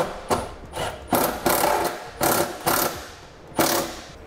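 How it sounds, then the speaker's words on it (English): Ratchet wrench tightening a center bolt while installing a trailer hitch on a 2014 Ford Edge, heard as several close, loud bursts of clicking strokes separated by short pauses, with no talking. "I'm gonna tighten up that center bolt just enough so it holds this up into place."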